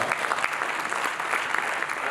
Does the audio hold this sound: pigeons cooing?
no